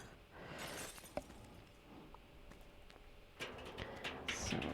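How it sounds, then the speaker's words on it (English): Glass shatters in a train station renovation video game, several crashing bursts of breaking shards spread out between quieter scraping and rubble noise, fairly faint overall. "Just something about the sound of wanton amounts of shattering glass cracks me up about this game."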